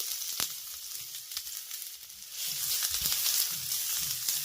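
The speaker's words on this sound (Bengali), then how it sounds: "আর এবার আমি এর ভিতরে অ্যাড করব মিডিয়াম সাইজের একটি পেঁয়াজ কুচি" Chopped onion hits hot oil with tempered mustard and cumin seeds, a soft crackle that swells into a fuller, steady sizzle partway through.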